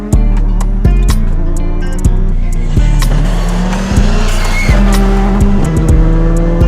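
Skoda Fabia R5 rally car racing, its engine revving hard and repeatedly climbing then dropping sharply through gear changes, loud and close, with tire noise between shifts.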